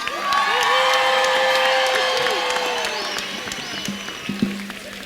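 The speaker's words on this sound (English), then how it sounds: "What an amazing crowd!" Cheering and applause from a large outdoor climate strike crowd in Iowa City, a loud sustained roar of whoops and clapping that slowly eases off, with a few sharper shouts near the end.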